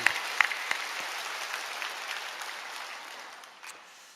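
A congregation at a women's interdenominational fasting revival service claps steadily, the applause fairly close and gradually fading away over a few seconds with no talk over it.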